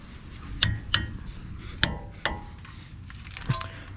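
A torque wrench clicks while the caliper bolts on a 4th-generation Toyota 4Runner are tightened, giving several sharp, fairly quiet metallic clicks at irregular intervals over a faint background.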